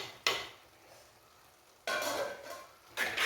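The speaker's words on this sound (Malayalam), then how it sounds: "നമുക്ക് നമ്മുടെ കറി ഒന്ന് ഇളക്കിയിട്ട് കൊടുക്കാം" A ladle stirs drumstick avial curry in a pot, making three separate scraping, sloshing bursts split by short quiet gaps, close and fairly loud, with no voices.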